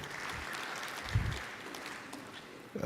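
Audience applause at an academic and public-private partnership forum, moderately quiet, even clapping holding steady for a few seconds, with a soft thump near the middle.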